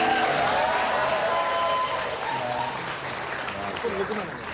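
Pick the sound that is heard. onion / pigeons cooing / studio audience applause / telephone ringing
studio audience applause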